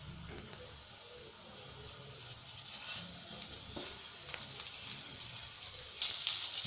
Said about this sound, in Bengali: এবার মাছগুলোকে ছেড়ে দিচ্ছি।